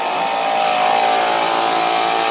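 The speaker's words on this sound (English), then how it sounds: "we're gonna kick our old compressor on" An old air compressor runs loud and steady near the microphone, giving a dense, constant mechanical roar with a whining hum and no pauses and no talk.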